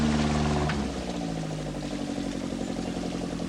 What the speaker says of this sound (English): The revs build as they get in there, don't want to bog it down, a little underpowered.